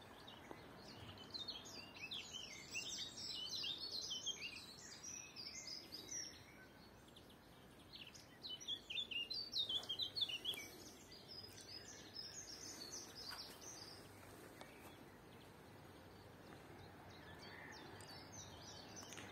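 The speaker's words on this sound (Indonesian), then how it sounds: "kita hanya bisa mendengarkan suaranya dari beberapa jenis burung" Faint chirps and warbling songs from several kinds of birds drift in from a distance over a quiet outdoor hush at 5 p.m., after winter, with a brief busier burst midway.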